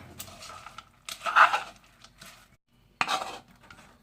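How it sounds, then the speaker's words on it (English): Ingredients stirred and coated with cornflakes in a pan, a few separate scraping, rustling clinks in short bursts with quiet gaps between, close and fairly soft. "And just stir them around. Get them all coated up"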